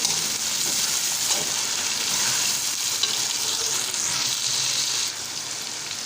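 Turmeric and spices fry in a pan for vegetable pulao, giving a continuous close hiss and sizzle that holds steady throughout and eases slightly near the end.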